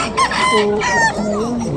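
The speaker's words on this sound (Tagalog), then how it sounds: "Solid yung mga manok dito sa Bukawi" Chickens and roosters at a Friday market in Bocaue: a rooster crows clearly up close among clucking fowl, with a voice faintly in the background.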